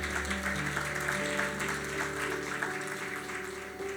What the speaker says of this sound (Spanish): Demos un aplauso al Señor, ¿cierto?